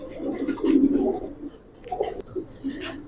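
Pigeons at a breeder's coop give soft, low cooing calls in short, repeated bursts, close and fairly quiet, with faint high chirps mixed in.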